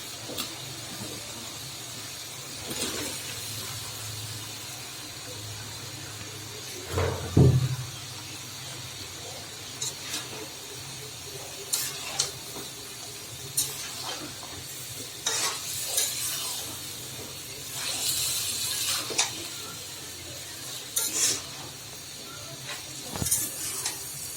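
Long strips of ash gourd are tipped into a pan of cooking boal fish, a steady soft sizzle with close stirring scrapes and a sharper clatter near the start.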